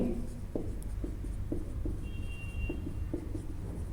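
A pen scrapes on paper during a physics lesson, with short separate strokes and taps at an uneven pace against a low steady background hum.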